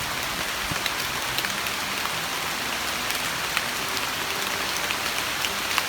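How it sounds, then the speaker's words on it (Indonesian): Rain falling outdoors during a durian grafting session, a steady dense hiss of drops pattering on surfaces, even and continuous throughout with no voices. "Di sini kebetulan cuaca pas lagi hujan"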